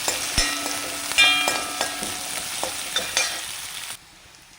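Ginger, garlic, green chili, curry leaves and shallots frying in a pan, a steady bright sizzle with a few scraping stirs and clinks, fairly close, dropping away abruptly near the end.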